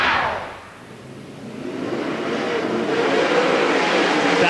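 World of Outlaws sprint cars racing at Skagit Speedway: a loud engine roar dips briefly, then swells back into sustained high-revving howl as cars come up to speed on the dirt oval.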